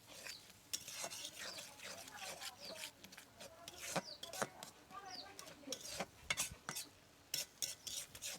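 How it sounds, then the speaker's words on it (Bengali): Masala spice paste being stirred and fried in a pan for a Bengali-style fish egg curry, with scraping and rubbing strokes of a utensil against the pan in an irregular rhythm, close and fairly quiet. "খুব ভালো করে মশলাটা কষাই নিচ্ছি।"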